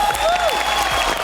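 Studio audience clapping on a reality TV show, a short dense burst of applause from a crowd, loud and close, with a brief electronic tone sweeping over it.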